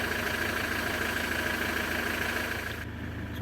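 A 2010 Ford Transit Mk7 RWD long-wheelbase van engine idling steadily, a constant close mechanical drone with a faint high whine and a slight drop in level near the end, no voices.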